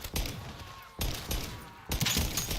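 Gunfire from a weapon in a Modern Warfare Zombies video game, heard as three loud bursts of rapid shots, each starting sharply and then tailing off, with a short gap between bursts.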